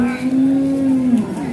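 Cattle at the Purwakarta animal market, where buffalo are traded, give one long, loud, steady moo that holds for over a second, with a busy crowd murmur underneath.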